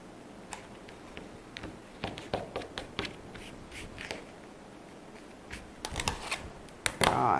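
Quilting fabric being cut into 4.5-inch squares: close, crisp clicks, scrapes and taps in irregular bursts, louder toward the end, with no talking.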